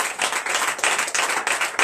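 Congregation clapping at a church service: dense, continuous applause with steady rhythmic claps, close and loud throughout, no talk.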